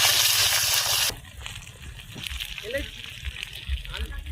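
Ginger frying and being stirred in a clay pot, a loud broadband sizzle at first that drops to a steadier, softer crackle with scraping stir strokes, and a voice speaks briefly over it.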